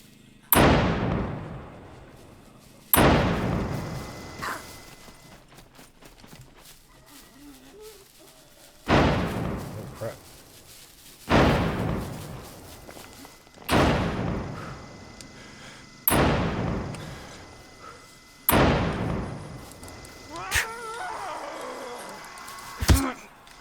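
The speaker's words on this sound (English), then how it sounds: "there's the basic turret. As you can see, is not highly accurate." A basic turret in the SCUM video game fires about nine loud, sharp shots, each with a booming decay, spaced a few seconds apart, with quiet pauses between them.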